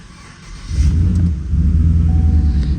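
A 2018 Chevrolet Silverado engine with a cylinder misfire turns over and catches, settling into a loud, uneven low rumble that stays close and steady without speech.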